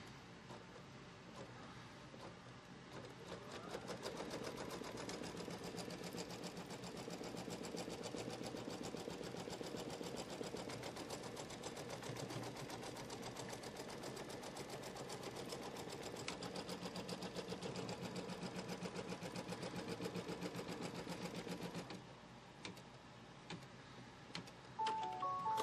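A sewing machine stitches a quilt tack-down for a Kimberbell Quilting Through the Seasons block, running in a steady, fast mechanical patter for about twenty seconds before stopping, close and fairly quiet.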